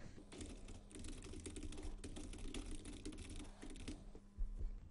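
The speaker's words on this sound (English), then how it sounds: "and then start typing" Quiet, rapid typing on a computer keyboard while entering text in digital scrapbooking software, a close series of light irregular key clicks over a faint low hum.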